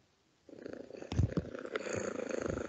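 Recorded cat purring played back from a phone app button, a continuous rumbling purr starting abruptly and holding steady with soft pulsing, close and moderately loud.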